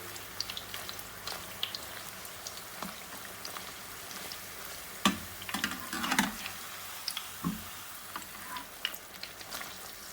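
Poori turned over in hot oil keeps up a close, crackling sizzle full of dense tiny pops, with a few louder spatters in the middle and no voices.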